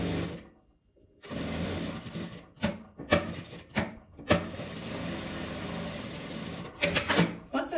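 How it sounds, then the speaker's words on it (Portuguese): Sewing machine stitching a seam on fabric scraps for a small beginner project: bursts of rapid mechanical whirring broken by brief pauses and handling clicks, close and moderately loud. "E aqui eu vou passar uma costura de um lado e do outro."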